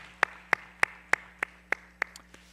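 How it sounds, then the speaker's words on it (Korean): A young adults' Sunday worship congregation claps in steady unison, giving thanks and glory to God: eight or nine sharp, evenly spaced claps about a third of a second apart, clear and close with little else around them. "우리 하나님 앞에 감사와 영광의 박수 올려드릴까요?"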